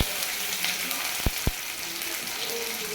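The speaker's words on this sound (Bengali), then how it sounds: "আর এটা হয়ে গেলে এটার মধ্যে আমি পেঁয়াজ কুচনোটাকে এবার অ্যাড করে দেব" Chopped onion sizzling in hot oil with dried chilli and panch phoron, a steady hiss with two sharp utensil clicks against the pan partway through.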